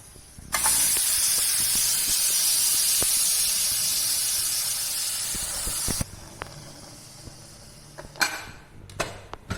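Steam hisses loudly and steadily from a pressure cooker being opened after four whistles and switching off, lasting about five seconds before cutting off, then a few metallic clanks of the lid follow.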